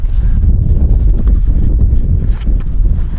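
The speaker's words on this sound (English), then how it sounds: "It is extremely windy today." Strong wind buffets the microphone in an outdoor horse arena, a loud, continuous low rumble with gusty surges and no talking.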